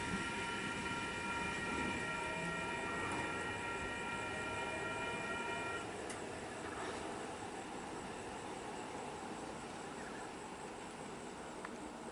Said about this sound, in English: We've got an Oscar departing, H set number 36.